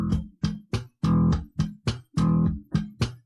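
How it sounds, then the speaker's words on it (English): Slap bass on its own: thumb slaps, plucks and percussive left-hand muting clicks on the strings, about ten sharp hits in an uneven, syncopated pattern, close and clear, with no voices. "Now you notice how the left hand creates a click."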